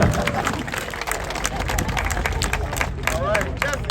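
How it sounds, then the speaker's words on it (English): An outdoor crowd claps at a trail ribbon cutting ceremony, steady scattered applause with chatter and voices mixed in throughout. "So give her a round of applause."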